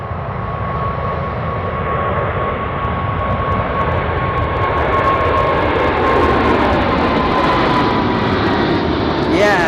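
A UPS cargo jet takes off at Anchorage airport, a loud, rising engine roar with a steady whining tone building over several seconds, heard fairly close.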